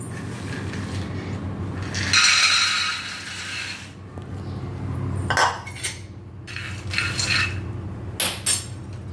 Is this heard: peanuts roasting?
yes